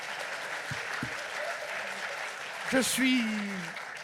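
Steady applause from an audience fills the clip, with a voice briefly rising over the clapping near the end.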